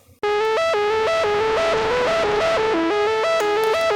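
Gritty synth saw wave, FM-modulated with pink noise, playing a loud, buzzy stepped melody of short sustained notes that jump up and down in pitch, starting abruptly and continuing unbroken for about four seconds.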